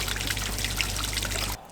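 Pumped rain water trickles steadily into the reservoir of a large boulder fountain, a close, continuous splashing dribble that cuts off abruptly near the end.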